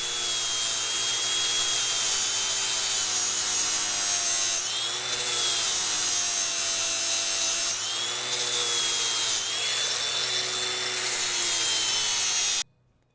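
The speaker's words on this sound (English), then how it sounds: "I just got a grinder, and we're just gonna grind off those" An angle grinder grinds off the rivets of a 2004 Honda CR250 motorcycle chain, a loud sustained high whine with steady abrasive rasping, dipping briefly between passes before cutting off abruptly at the end.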